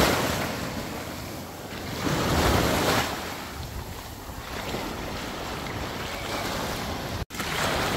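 Waves wash steadily onto a beach in Kefalonia, a continuous broad roar that swells and eases, mixed with gusty wind buffeting the microphone.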